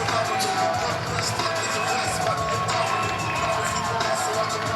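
An arena crowd at a pro lightweight MMA event roars as a fighter makes his entrance, with loud, dense, sustained cheering and shouting throughout.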